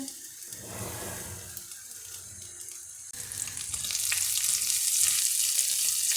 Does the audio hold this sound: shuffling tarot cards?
no